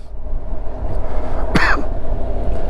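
A single short cough from a person with a cold sounds once midway over a steady low background rumble, with no talk around it.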